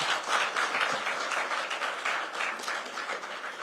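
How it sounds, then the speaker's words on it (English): A studio audience breaks into sustained, dense applause welcoming former Madhya Pradesh Chief Minister Kamal Nath, a steady wash of many hands clapping at even loudness throughout, with no voices over it. "Let's give him a very warm round of applause today."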